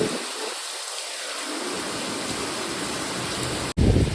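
Heavy rain pours down as a dense, steady roar of hiss that stays loud and unbroken, apart from a brief cut near the end.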